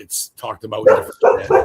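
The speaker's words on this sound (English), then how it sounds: "She barks at anything." A pet dog barking indoors, with short yips and barks mixed in among close, loud human talk.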